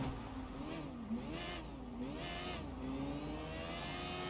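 A motorcycle engine revs in a driving video game on a left-hand-drive British road, its pitch rising and falling in repeated waves, moderately quiet and alone.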